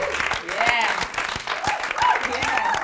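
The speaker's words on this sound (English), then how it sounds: "a round of applause to the WSL" Short burst of applause from a small group at a Christmas quiz, scattered claps under overlapping voices and laughter, rising and fading across the moment.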